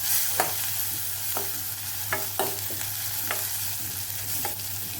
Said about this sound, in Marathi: तेलामध्ये परतून घ्यायचं.